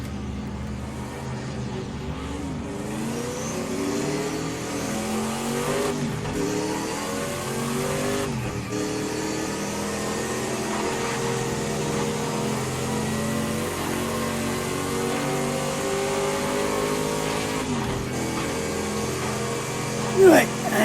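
Prototype race car in the Project CARS 2 racing game accelerating at night, its engine revving steadily through rising and falling gear changes, loud and continuous for the whole stretch, with a brief sharp knock near the end.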